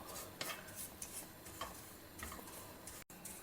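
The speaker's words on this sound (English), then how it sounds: "Now take 1 cup of oats and dry roast this also." A spoon or spatula stirring dry oats in a pan over a low flame, soft scraping and light ticking taps repeating every half second or so, faint and close, with no talk.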